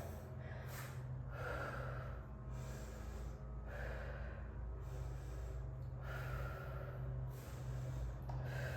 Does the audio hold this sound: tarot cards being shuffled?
no